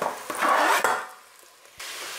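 Onions roasting in a pan for a gravy, loud sizzling while being stirred with a few clacks of a utensil, then the sizzle fades to quiet before settling into a steady hiss.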